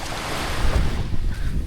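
Ocean waves wash onto the shore at sunset, a broad rushing surf mixed with gusty wind buffeting the microphone, steady and fairly loud.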